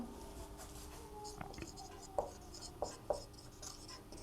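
Chalk or marker scratches across a board while a maths formula is written, soft rubbing strokes with a few sharper taps, faint and close in a quiet room.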